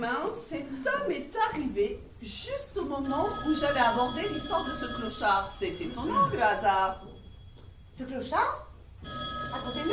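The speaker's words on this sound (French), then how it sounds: "Ah, excusez-moi, c'est mon téléphone." A telephone rings repeatedly under continuous French conversation between several people, its steady electronic tone running through most of the stretch with a brief gap.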